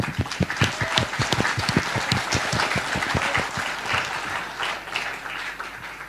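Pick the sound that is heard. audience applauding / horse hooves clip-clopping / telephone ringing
audience applauding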